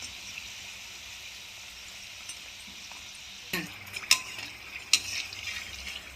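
Folded moong dal snacks deep-frying in hot oil, a soft steady bubbling hiss that swells partway through, with a few faint clinks from a utensil, no voices.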